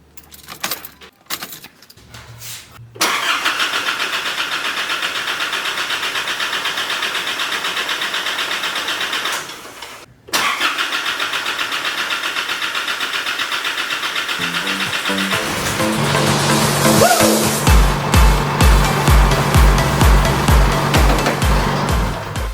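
An Isuzu 4JJ1 diesel engine in a Holden Colorado cranks briefly, then settles into a steady, close idle with a loud, even rumble and occasional clicks and rattles.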